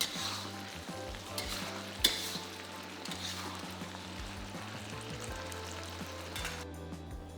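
Vegetables stir-frying in a pan with Chinese cooking wine, a loud continuous sizzle with busy tossing and scraping throughout that cuts off abruptly at the end.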